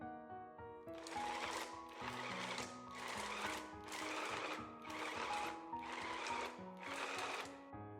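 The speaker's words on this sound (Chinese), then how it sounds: "第3次呢，就把肥猪肉放进来搅打" A blender chops fatty and lean pork with ice, whirring in about six steady, evenly spaced pulses of moderate loudness with brief pauses between them.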